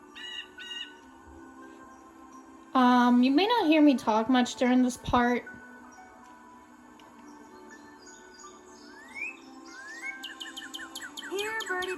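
Woodland birds in the video game Nancy Drew: Ghost Dogs of Moon Lake sing clear, warbling and chirping calls, loud and close in a burst, then scattered tweets with a faint cricket background while a person briefly talks.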